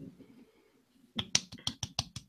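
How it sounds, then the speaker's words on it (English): A brief run of soft, quick claps, about eight in a row, close by and fairly quiet after a moment of low murmur. "Nice. Golf clap."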